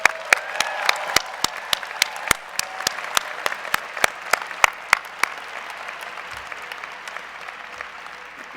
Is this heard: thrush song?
no